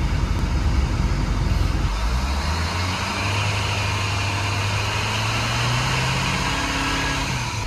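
A 2007 dually truck, parked at the side of a highway after running out of coolant, idles up close with a steady low engine drone whose pitch climbs gradually. No talk is heard.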